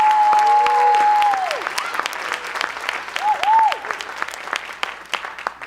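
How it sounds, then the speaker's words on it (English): Audience applause at a gala at the Pershing Square Signature Center in New York, a steady wash of clapping from a crowd after co-chairs are introduced, with a few high whistles cutting through partway and the clapping thinning toward the end. "So let's hear it for Cheryl and Tina Borges."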